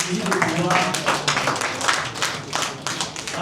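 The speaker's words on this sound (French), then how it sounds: "Est-ce qu'on peut applaudir pour cette personne" An audience clapping for a person at a gathering, a run of close, crisp hand claps with voices mixed in, continuous and fairly loud.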